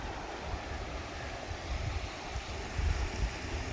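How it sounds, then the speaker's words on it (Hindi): Large volume of fast-flowing Sutlej river water rushing past Head Islam bridge during a flood, a steady broadband roar of churning current with low rumbling surges, constant and close, no voices. "तो यहाँ पे देखें कितना तेज़ी के साथ पानी जो है गुजर रहा है"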